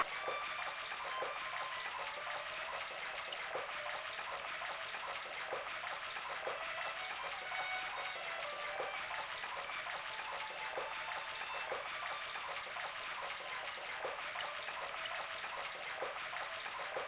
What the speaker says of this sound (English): The faucet